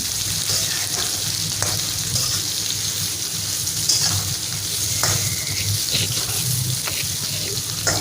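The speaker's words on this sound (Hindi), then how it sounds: "अब मैं इसमें प्याज डाल रही हूँ, अब इनको फ्राई करते हैं।" Onions and bitter gourd fry in a steel karahi with a steady, loud sizzle, while a spoon stirs and scrapes against the pan and water splashes intermittently close by.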